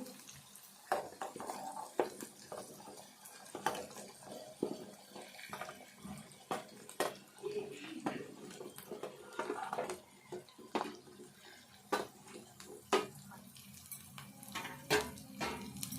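Bitter gourd pieces go into a pan of frying onions and are stirred, giving intermittent sharp scrapes and clicks of a utensil against the pan over a soft, steady hiss, with no talking.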